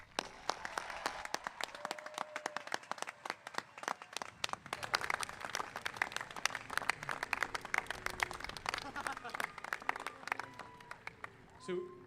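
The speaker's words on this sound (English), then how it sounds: "Let's give him one more big round of applause" Applause at a high school graduation ceremony, many hands clapping in a large space, sustained for several seconds before thinning out, with a voice audible near the end.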